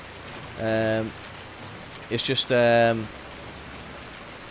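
Steady rain falling in the video game Farming Simulator 2019, a continuous soft hiss running underneath someone talking over it.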